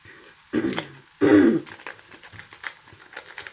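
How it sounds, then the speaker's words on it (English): A person clears their throat twice in quick succession, the second rasp longer and louder, followed by quiet shuffling. "I'm going to clear my throat for the rest of the night"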